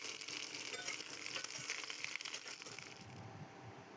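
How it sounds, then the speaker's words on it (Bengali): Pointed gourds (potol) fry in hot oil, giving a steady, dense sizzle and crackle that runs throughout at moderate level, easing slightly toward the end. "প্রথমে গরম তেলের উপরে পটলগুলো দিয়ে নেব, ভাজতে দিয়ে মশলাটা তৈরি করে নেব"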